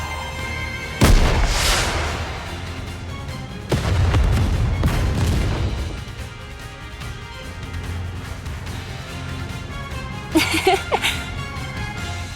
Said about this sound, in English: Final flame explosion!